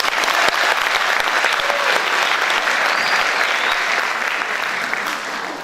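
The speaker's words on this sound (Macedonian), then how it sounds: "Да ги поздравиме со еден аплауз." An audience at a cultural centre event in Gostivar for Macedonian Language Day applauds, steady, dense clapping from many hands holding loud for over five seconds before easing slightly.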